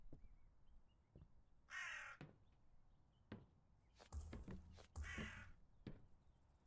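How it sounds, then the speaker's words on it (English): Several crows caw in separate harsh bursts, a couple of them oddly pitched, spread over a few seconds with quiet gaps and faint background knocks, no talking. "I like that every 10th crow does not sound normal."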